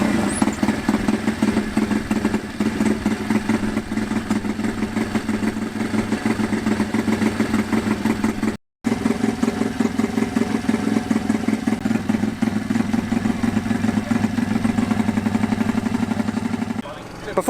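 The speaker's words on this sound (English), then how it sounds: "we're going to stick a few of our bikes on the Dyno, see what they're reading for this 2025 season" A 140cc pit bike engine runs steadily on a dyno. It holds a loud, even drone with a brief dropout midway, and then the same constant tone carries on to the end.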